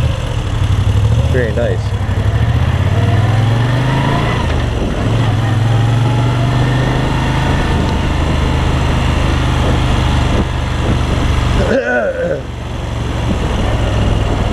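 A Moto Guzzi V7 III motorcycle engine runs steadily for the whole stretch with a low, even rumble. It is joined briefly by someone speaking.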